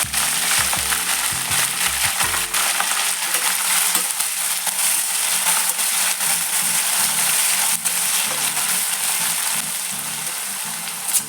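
Spring onion greens sizzle and fry in a pan, a constant loud crackling hiss with occasional stirring knocks in the opening seconds.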